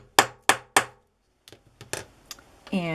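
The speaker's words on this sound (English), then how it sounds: "I'm going to have to use my hammer, so excuse the noise." Three sharp hammer strikes ring out in quick, even succession as a hole is punched for an eyelet in a handmade journal, followed by a few softer taps and clicks, then a voice starts speaking.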